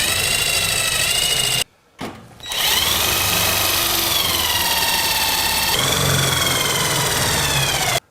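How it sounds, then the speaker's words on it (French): A power drill drives self-drilling screws into the mounting supports of a Geberit One bathroom vanity: a loud, close whining burst, a brief stop, then a longer run whose pitch shifts as the screw bites, ending abruptly. "je peux maintenant visser les supports définitivement avec des vis autoforeuses"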